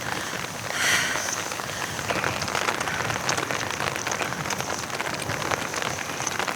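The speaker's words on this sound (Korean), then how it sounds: "비가 아니고 우박이 떨어져요." Hail pelts down during a high-altitude mountain hike near Punta Union Pass, a dense continuous patter of hard pellets striking surfaces all around, steady and fairly loud with no voices.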